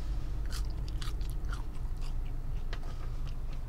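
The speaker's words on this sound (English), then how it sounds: "These fries are extra crunchy today." Crisp, crunchy bites and chewing of extra crunchy fries, close up, with a quick series of sharp crackling crunches and no talking.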